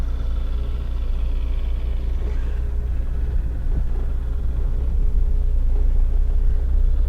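A 1971 Ford Econoline van pulls away, its engine a steady low rumble that stays loud and close throughout, with no speech over it.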